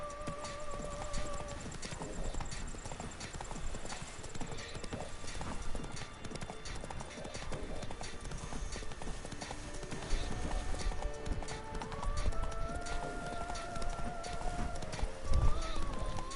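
Roach, a horse in The Witcher 3, gallops with a constant dense patter of hooves for the whole stretch, loud and close, over a steady layer of ambient game music with no one speaking.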